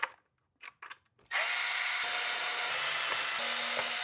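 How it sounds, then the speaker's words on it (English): A power driver spins screws out of a Traxxas X-Maxx 8s RC truck chassis, a loud continuous high whirring motor that starts abruptly after a few short clicks and handling noises and runs steadily to the end. "Now let's go ahead and take off these screws that go to the chassis for the shock tire."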